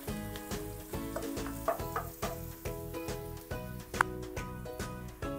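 A big onion sautéing in a pan for pork giniling torta kapampangan, a steady sizzle with soft rhythmic stirring pulses, close and alone over a faint repeating musical backing.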